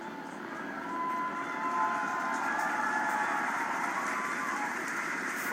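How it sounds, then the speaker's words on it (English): A Falcon 9 rocket ascending through the atmosphere after a Crew Dragon launch, heard as a faint, distant, steady roar with a tonal whine that holds for several seconds. "you are watching a live view of the Falcon 9 rocket as it ascends through the atmosphere"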